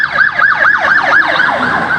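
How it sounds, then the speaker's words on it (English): An ambulance siren wails in a fast, repeating up-and-down sweep, loud and close, filling the whole moment without pause. "That's an ambulance for me, probably."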